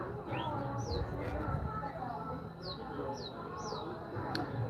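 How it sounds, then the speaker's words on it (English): Small birds chirp with a few short, rising tweets over a busy background of people talking nearby and general room or outdoor clatter, the calls brief and scattered across a few seconds. "these birds are like thug life birds."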